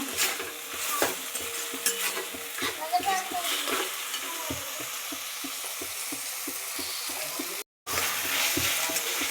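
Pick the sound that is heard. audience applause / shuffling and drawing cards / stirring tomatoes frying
stirring tomatoes frying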